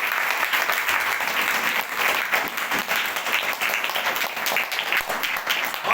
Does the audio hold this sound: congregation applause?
yes